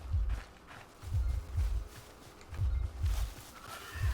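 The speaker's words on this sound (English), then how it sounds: "No, horse, come back." Rhythmic, muffled hoofbeats thud steadily from a horse in the Hytale video game, a regular clip-clop pattern moving close by with no talking.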